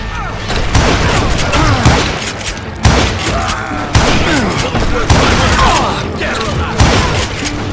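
Gunfire in the Western shooter Call of Juarez: Gunslinger: repeated sharp shots and booming blasts in a busy shootout, loud and close, bursts spaced every second or so, with a voice talking over the action.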